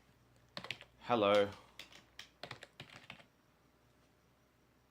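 Brief burst of computer keyboard typing, a quick cluster of clicks between short spoken words and a louder voiced sound, in a quiet indoor setting.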